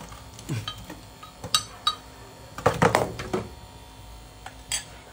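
Oil and chili stirred in a cooking pan, with scattered metallic clinks and scrapes of a utensil against the pan in irregular bursts, close and moderately loud, no talking.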